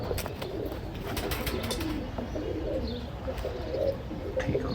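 Pigeons coo softly in a loft kept for breeding, with low throaty coos repeating over a busy background of bird chirps and small rustles.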